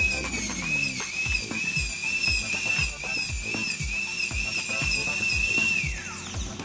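A dental drill bur deepens the cusp reduction on a tooth for a metal-ceramic crown, a close, steady high whine interrupted by repeated soft ticking contacts before the pitch drops off at the end.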